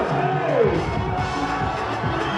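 A crowd claps and cheers for contestant number six at a Miss Congo France beauty pageant, a steady moderate wash of noise with voices calling out over it.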